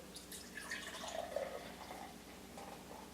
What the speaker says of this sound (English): I'm going to do a straight pour.